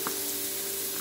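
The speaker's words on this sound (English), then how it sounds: "I'm frying the mushrooms right now" Mushrooms fry in a pan with a steady, dense sizzle and hiss that runs unbroken throughout, with no talking over it.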